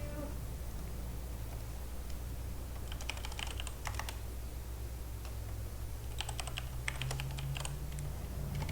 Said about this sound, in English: this illuminated keyboard was a genius idea, Jen.